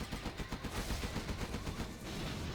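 Rapid Gatling cannon and tank gunfire in the strategy game Zero Hour, a fast rattling burst of shots in quick rhythmic pulses, fairly faint and continuous, with no voices.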